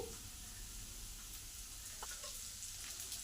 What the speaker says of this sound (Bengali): এবারে পেঁয়াজটা দিয়ে দিই, পেঁয়াজগুলো কুচো করে নিয়েছি।